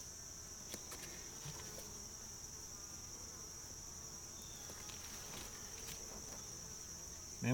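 Honey bees buzzing faintly around an opened beehive, a thin steady hum under quiet rustling and a few soft taps, ending with a brief louder knock.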